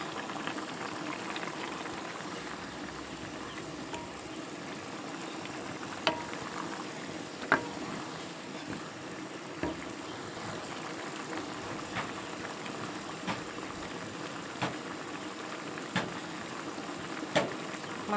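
Chicken curry gravy simmering down in a pot, a steady bubbling hiss with scattered louder pops and spits at irregular intervals, close and continuous without talk.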